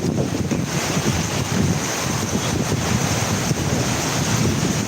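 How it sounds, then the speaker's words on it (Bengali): Heavy rain pours onto a waterlogged city street on Panthapath in Dhaka, a dense, steady roaring hiss with a low gusty rumble throughout and no voices. "এই মুহূর্তে বৃষ্টিটা একটু সবচেয়ে বেশি হচ্ছে"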